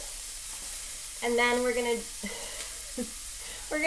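A soft, steady sizzle of onion frying in a pan, running under someone talking.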